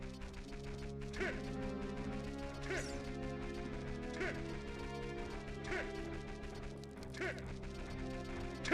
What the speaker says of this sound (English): The cuckoos are making that noise.